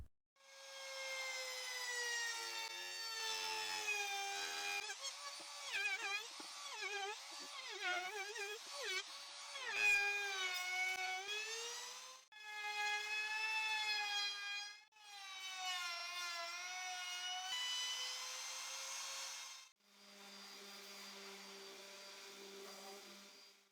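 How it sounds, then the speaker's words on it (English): A handheld router with a roundover bit rounding the corners of a wooden piece gives a high, steady whine that wavers as it cuts, stopping and restarting over several passes. "I will place this router bit in the router, and with it, I will round all the corners of the item except for those facing down."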